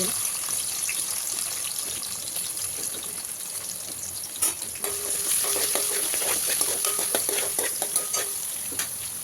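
Shahi jeera and bay leaves sizzle in hot oil for a masala dondakaya (ivy gourd) curry, a steady close frying hiss with faint stirring clinks and a brief louder crackle midway.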